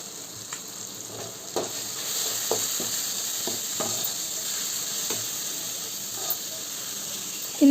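Spices with garlic and ginger sizzling in a pan for a taro leaf curry while being stirred, a steady frying hiss with soft scraping spoon strokes, close and alone.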